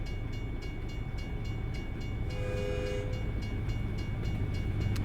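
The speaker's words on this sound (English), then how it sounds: "I do hear a train." A train in American Truck Simulator rumbles steadily with a low continuous drone, and a horn-like tone sounds briefly in the middle over the constant noise.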